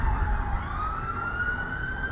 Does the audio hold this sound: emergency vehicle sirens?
yes